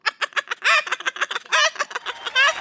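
A person vocally imitates a hen clucking on a comedy stage show, with several bursts of rapid, rising cackles in quick succession, loud and close with no other talk.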